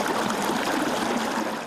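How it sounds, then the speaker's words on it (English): Rushing water in a creek flooded by heavy rain, a loud, steady broadband roar that fills the whole moment without a break and with no voices over it. "The sound of rushing water is everywhere."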